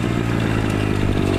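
Motorcycle engine running loud and close as the rider shifts into first gear, a rough, steady mechanical drone with slight clatter.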